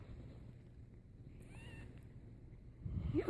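A small orange tabby kitten gives one faint, thin, high meow outdoors, with the mother cat nearby. Steady wind rumble runs underneath, and handling noise rises toward the end.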